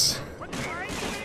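Gunfire in the World War II shooter Medal of Honor: Frontline: a sharp, loud shot at the start followed by a booming, echoing tail and a short burst of further impacts, with the player talking over it.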